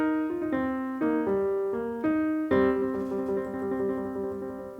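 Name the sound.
blues piano riff with intervals, single notes and tremolo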